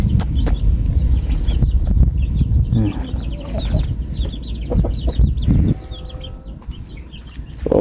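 Chickens clucking in a rural Thai home kitchen yard, with a rooster and fowl calling in short repeated bursts, occasional wing flaps and background farm noise, fairly close and loud throughout.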